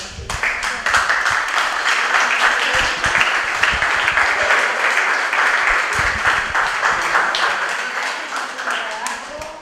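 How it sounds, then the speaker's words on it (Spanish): An audience at a community health and environmental debate breaks into applause, a dense, uneven patter of many hands clapping that swells quickly and holds steady before tapering off near the end. "Un aplauso para mí."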